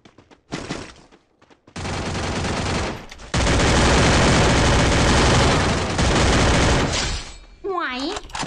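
In the Free Fire video game, a shotgun fires in long, loud, dense bursts of gunfire that carry on for several seconds, broken by short pauses, with a voice heard near the end.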